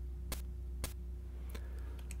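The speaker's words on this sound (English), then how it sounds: "It's a little tap of like a cymbal." Game Boy channel 4 noise percussion programmed in the Carillon Editor tracker, a few faint, short cymbal-like ticks over a steady low hum.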